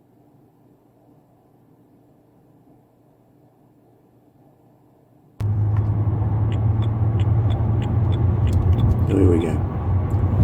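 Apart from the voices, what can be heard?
BMW Z4 E89 car driving on motorway, test drive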